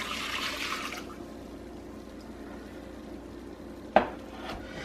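Cooked wine poured into a pot of oxtail stew makes a brief splashing rush at the start, followed by quiet kitchen stillness and one sharp clink of a utensil or pot near the end.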